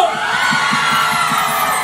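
Live concert crowd in Peru yelling and cheering loudly together for the singer, a dense sustained roar of many voices.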